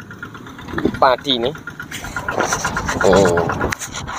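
A tractor engine runs steadily while plowing a rice paddy field, a mid-pitched motor droning throughout under close conversational speech.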